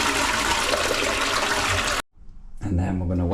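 A household toilet flushes with a loud rushing surge of water that cuts off abruptly, followed after a brief near-silence by refilling water with a voice speaking over it.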